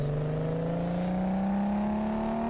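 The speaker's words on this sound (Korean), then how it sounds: "자 이제 이 엔진 이 차의 엔진 마력이 얼마나 나올지 한번 테스트 해보겠습니다." A Maserati Quattroporte engine in Car Mechanic Simulator 2015 revs steadily on a dyno test, its loud, smooth whine climbing gradually in pitch, alone and close.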